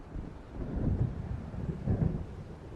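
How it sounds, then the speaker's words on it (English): Low thunder rumbles from an approaching storm in the video game Alan Wake, two deep rolling swells about a second apart under a soft windy wash, with no talking. "It seems there's a storm coming."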